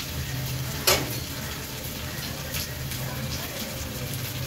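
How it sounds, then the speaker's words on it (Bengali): Onions frying in a pan make a continuous soft sizzle close by, with one brief sharp clatter near the start and a low steady hum underneath; no one speaks. "পেঁয়াজগুলো আর একটু ভেজে নিই লাল লাল করে"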